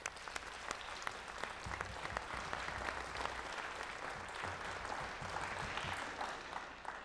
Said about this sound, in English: Please join me in a round of applause for all these people and these groups.